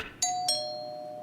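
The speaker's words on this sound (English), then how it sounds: "Ring the bell." A doorbell chimes two quick, clear tones, the second ringing on and fading slowly in a quiet room.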